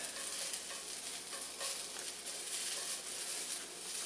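Vegetables sizzling on a hot griddle for a shaved rib eye sub, a steady low crackling hiss with light scraping, fairly faint and continuous.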